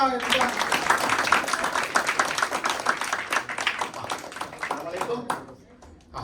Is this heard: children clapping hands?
yes